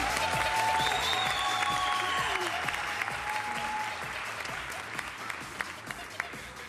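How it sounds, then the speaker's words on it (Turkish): A live audience at a televised magic cabaret show applauds steadily, a dense sustained clatter of many hands with a few voices and musical tones mixed in underneath. "Çok büyük alkışlar lütfen."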